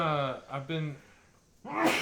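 A single sharp sneeze bursts out near the end, after a stretch of someone talking and a brief quiet pause.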